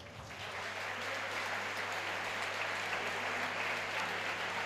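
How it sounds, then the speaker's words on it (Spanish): Applause from a gala audience in a large tent at a spa hotel in Cuntis, a continuous wash of distant clapping heard at a modest level over a low steady hum. "vamos a dar o primeiro aplauso para Cuntis"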